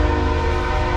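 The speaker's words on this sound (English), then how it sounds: "Got a train" A train horn blares in one loud, steady, sustained tone with rumbling rail noise beneath, close by and continuous for the brief moment.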